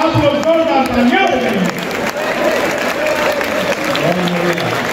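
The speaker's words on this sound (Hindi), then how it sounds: "आप लोग जोरदार तालियां" A crowd at a Hindi comic poetry gathering in Gorakhpur claps loudly and continuously, with scattered voices and some cheering mixed into the sustained ovation.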